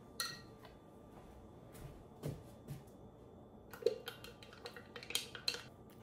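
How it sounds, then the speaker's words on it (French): A utensil stirs thick crêpe batter in a bowl, giving scattered light clinks and scrapes against the sides with a few sharper knocks near the end, close and fairly quiet, with no talking. "on brasse tout ça ensemble"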